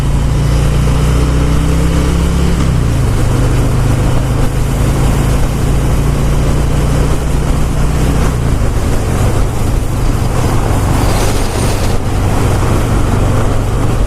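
A 2018 Harley-Davidson Fat Boy 114 cruises at highway speed without a fairing or windshield. A loud, steady engine drone shifts pitch a couple of times under heavy, continuous wind rush.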